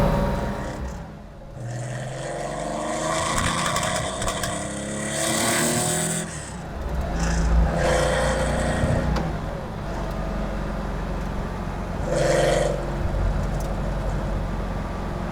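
A Porsche 911 RSR recreation by Design Velke, a raw lightweight racing car, roars loudly as it accelerates and revs, its engine note rising and falling through gear changes with brief passing surges.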